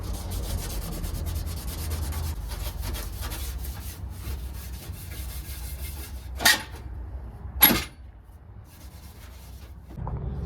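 Sanding on the dashboard of a 1978 Ford to smooth out scratches and chips, a steady close rubbing scrape that keeps on without a break, with two short louder knocks late on and no talking.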